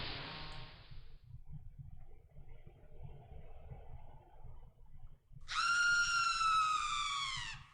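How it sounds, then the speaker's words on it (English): A scream sound effect in the Red Reaper video game rises as a loud, sustained high-pitched shriek near the end, after a brief hiss and a stretch of low, quiet ambience. "A scream echoes throughout the house, waking everyone up."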